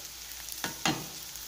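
Onions sizzle in hot oil in a pan with ginger garlic paste and spices for masala egg fry, a steady faint hiss broken by two quick stirring scrapes, no talking.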